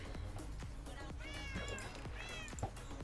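Several cats meowing in the Minecraft video game, a series of short, clear meows repeating over a few seconds against steady background game sounds.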